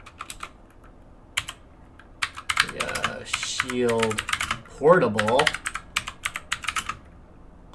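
Clicky key taps on an NVIDIA Shield Portable handheld come in scattered bursts throughout, fairly close, with someone talking over the middle stretch.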